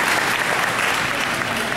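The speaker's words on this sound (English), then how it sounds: "Let's give our young folks applause." Audience applause for young people at a White House Hispanic community summit, a dense, steady wash of clapping from a crowd filling the whole moment without any speech.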